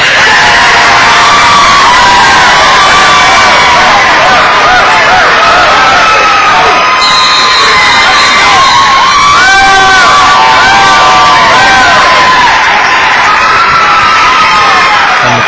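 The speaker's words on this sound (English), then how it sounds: "Crowd happy over here on the Scott side of things for the turnover there forced by the Scott defense." Crowd cheering loudly at a Scott vs Sissonville high school football game after the Scott defense forces a turnover, with excited shouts and whoops from the home side rising over steady crowd roar throughout.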